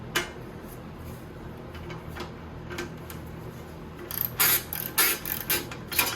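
A ratchet works a 1/4 inch hex on a Toro Z420 Timecutter mower motor during an engine swap, giving quick close clicking bursts that grow louder and busier toward the end over faint background hum.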